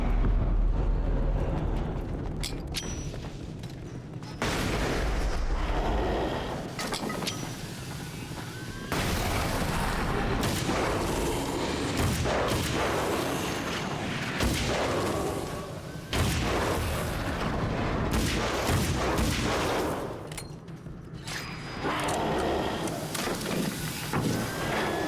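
Carbine rifle shots in the horror action game Alan Wake's American Nightmare, loud booming reports repeating at irregular intervals over a dark rumbling backdrop, with heavy impacts and blasts between the shots.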